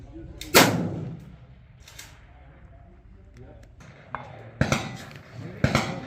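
Long-range rifle shots fired outdoors: three sharp reports, each with a short echoing tail. The first comes early, and the other two come close together near the end, with quiet gaps between them.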